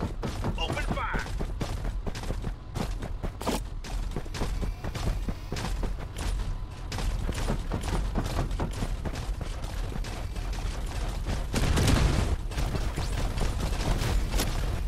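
Rapid gunfire bursts in the Farlight 84 battle game, dense crackling shots and booms layered over busy game sound effects throughout, with a heavier blast near the end and a voice speaking at times.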